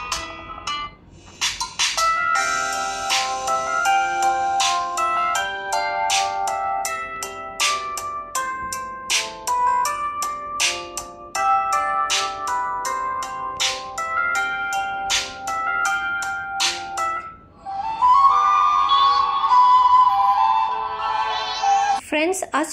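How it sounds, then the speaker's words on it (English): Ringtones play one after another from a Poco M6 5G phone, a series of chiming, bell-like melodic tunes sounding loudly and continuously, with a brighter, denser tone toward the end. "here play some of the ringtones"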